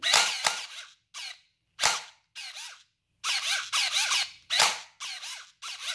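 Electric M1911 gel blaster firing full auto in short bursts, sharp snapping cracks with a whirring mechanism between them, separated by brief pauses.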